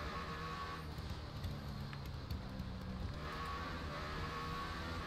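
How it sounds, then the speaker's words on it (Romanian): A racing video game car coasts off the throttle, its exhaust giving a steady, broadband rumble and crackle that holds fairly constant and close throughout, with no voices. "Îmi place cum faci și evacuarea când nu accelerezi."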